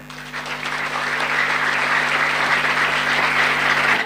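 An audience bursts into applause during a religious gathering, many hands clapping in a dense, rising wash that holds steady for four seconds, with a low electrical hum running beneath.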